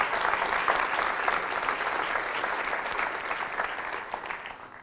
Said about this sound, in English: So how about we give a big round of applause for everybody that presented.